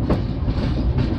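The Dhauli Express, running from Puri to Shalimar, rolls along with a steady, loud rumble and rhythmic wheel clatter heard from on board.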